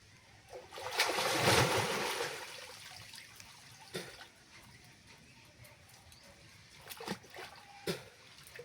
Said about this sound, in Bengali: আমি এখন ডুব দেব।